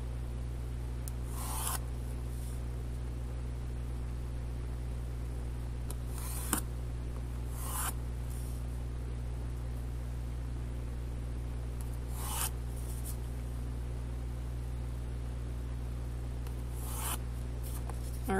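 A pencil presses heavily across paper while drawing grid lines, producing several short scratchy strokes spaced seconds apart over a steady low hum.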